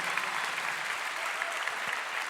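A church congregation applauds at a conference service, a dense, continuous wash of many hands clapping, loud and unbroken, with no voices above it.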